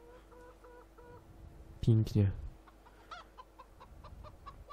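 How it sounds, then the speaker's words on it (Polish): Chickens and a rooster in the video game Farming Simulator 2015, with a loud burst of clucking mid-way and softer clucks around it, heard under a voice. "To kogut chyba."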